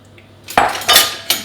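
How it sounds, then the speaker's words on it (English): A spoon scrapes and knocks against a mixing bowl while brown sugar is stirred into sieved flour for a carrot cake, with three short clinking strokes close up and no talking. "next we need to stir in the brown sugar"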